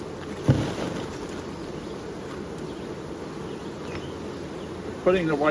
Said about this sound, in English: So shake some of my bees off this ring.